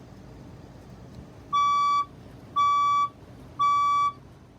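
A fire alarm sounding during a test gives three loud, evenly spaced electronic beeps of about half a second each, steady in pitch, over a quiet room with no talk.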